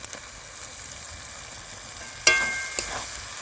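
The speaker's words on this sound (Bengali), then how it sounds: "এবার দিচ্ছি চিনে বাদাম বাটা, এখানে 25 গ্রামের মতো আছে।" Ground peanut paste frying in a pan for a Bengali fish curry with drumsticks and potato, a steady low sizzle that flares into a sharper hiss and crackle as the paste hits the hot oil, close by with no talk.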